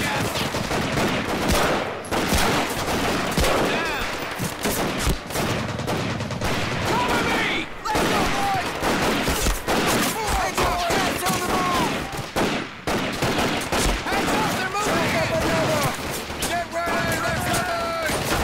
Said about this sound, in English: This is the Browning Auto A5, the most successful semi-auto shotgun in history